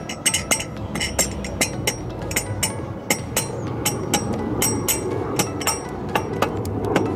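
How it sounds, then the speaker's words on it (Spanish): A rubber mallet knocks on an engine cylinder during a complete engine rebuild, landing a steady, rapid series of sharp, close blows of even strength for about seven seconds, with no talking. "Yo normalmente utilizo este martillo de goma y le meto unos trancazos arriba, otros abajo, arriba, abajo"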